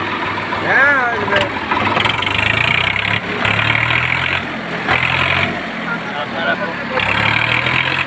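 A second-hand agricultural vehicle's engine idles with a steady, loud low rumble that runs through the whole stretch, while someone talks over it now and then.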